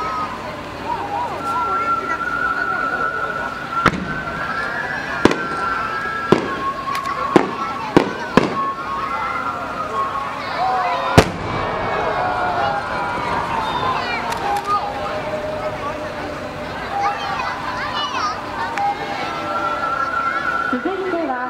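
Fireworks burst repeatedly at a Hiroshima harbor fireworks festival, sharp cracks and booms standing out over a steady crowd murmur and crackling, with whistling tones rising in between; shell tips flash silver.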